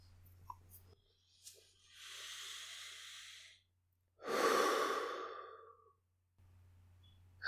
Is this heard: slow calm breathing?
yes